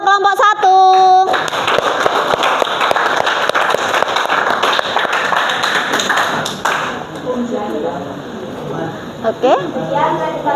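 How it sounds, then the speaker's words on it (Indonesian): A classroom group claps for about five seconds after a micro-teaching presentation on network topology: dense, steady applause that starts abruptly after a short tone and then gives way to speech. "beri aplaus untuk kelompok 1"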